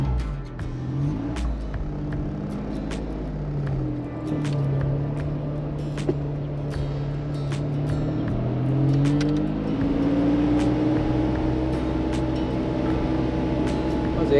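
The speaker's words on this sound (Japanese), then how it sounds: "エンジンをかけてみたいと思います。" A 31-year-old Honda Beat kei open sports car starts on the first try and idles up close, its small engine humming steadily with a few shifts in pitch as revs rise and settle.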